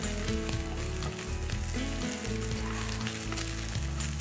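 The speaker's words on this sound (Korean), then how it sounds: "그래서 이렇게 볶아주세요" Steady sizzling of Korean beef stir-frying in a hot pan for japchae, with scraping and tossing noises from a utensil throughout, no voices.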